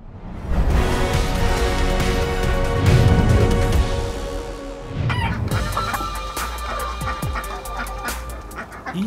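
Hens cluck and squawk loudly up close, with what sounds like a rooster joining; the flock noise shifts midway into a busier run of sharp calls.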